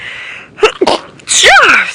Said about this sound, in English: I'm going to sneeze, excuse me.